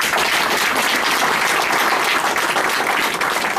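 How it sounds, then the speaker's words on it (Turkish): A crowd at a Republican People's Party (CHP) campaign rally for a metropolitan mayoral candidate in Çorlu bursts into loud, dense applause, a close, unbroken roar of clapping lasting a few seconds. "Bravo. Bir alkış."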